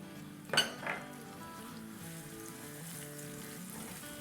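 Chopped medium onion sautéing in hot oil for a spinach chicken curry, a soft steady sizzle with a couple of clinks from a pan or utensil near the start, under a low background hum.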